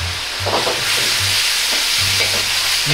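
Pork and mushrooms stir-fry in a pan with oyster sauce and a little starch slurry, giving a loud, close, continuous sizzle with rhythmic stirring scrapes and no voices.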